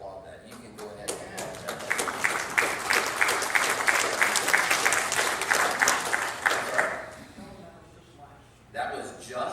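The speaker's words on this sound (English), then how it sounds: "I saw somebody about to applaud that. You can go ahead and" Scattered claps build into a moderate round of audience applause during a mission presentation, with distinct individual hand claps audible, then fade before a voice resumes talking.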